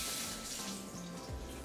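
Tap water runs steadily into a sink while chicken drumsticks are washed, a continuous even gush with no talk over it.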